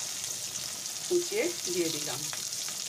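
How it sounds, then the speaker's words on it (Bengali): Chopped onion frying in oil with whole cumin seeds makes a steady, close sizzle throughout, while a voice speaks briefly over it. "এবার পেঁয়াজটাকে আমি ভালো করে নাড়িয়ে ভেজে নেব।"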